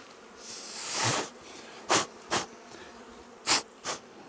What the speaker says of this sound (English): good looking bees